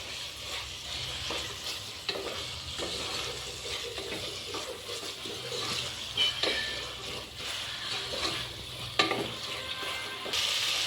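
Green peas frying and being stirred in a hot pan for tomato bath, a steady broadband sizzle with scrapes and clatters of the spoon against the pan throughout.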